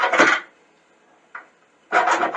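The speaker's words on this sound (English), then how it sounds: "I'm going to take a file, and I'm going to quickly just hit that with the file a few times" Hand file scraped quickly across a metal auger shaft on a Salt Dogg spreader to shave off burrs: two rasping strokes with a short faint scrape between, close and dry, with no talking.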